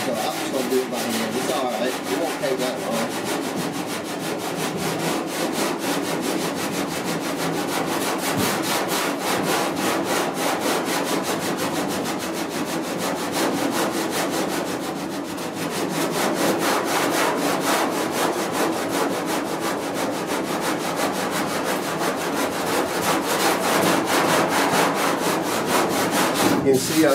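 Hand block sanding of body filler on the rear cab panel of a 1966 Ford F100 truck, a continuous close, coarse rasping scrape that runs steadily for the whole stretch without pause.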